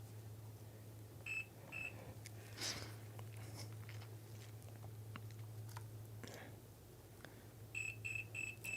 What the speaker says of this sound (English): Don't you beep at me.